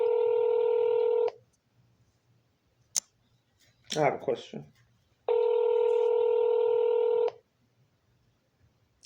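Two bursts of telephone dialing tones, each about a second or two long, sound loud and clear with a short silence between them, while a person speaks briefly in the gap.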